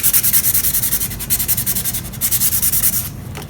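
Sandpaper rubbed by hand over stained wood on a steam-bent iPad stand, a loud close rhythmic back-and-forth scratching in quick even strokes, with no voices.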